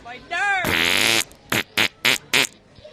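A voice imitating a fart on a radio show: one long, loud sputtering raspberry close to the mic, then four short, punchy blasts in quick succession.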